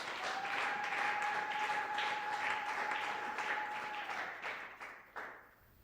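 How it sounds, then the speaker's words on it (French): A church congregation applauds during a Sunday praise and thanksgiving service, steady dense clapping that fills the room and then tapers off, with a sustained tone ringing beneath it. "Acclame encore pour la gloire de Jésus."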